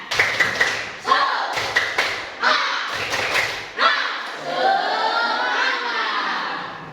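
Schoolchildren in a primary classroom perform a rhythmic spirit clap, sharp grouped claps in a patterned beat with voices chanting along, then a longer stretch of children's shouting and talking under the claps.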